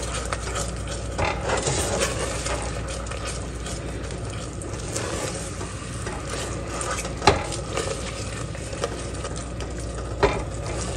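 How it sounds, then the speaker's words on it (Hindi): Potatoes being stirred with turmeric, fennel seeds and spices in a pan, a steady scraping stir over a faint sizzle, with a couple of sharp utensil knocks against the pan. "इसको अच्छी तरह मिक्स करेंगे।"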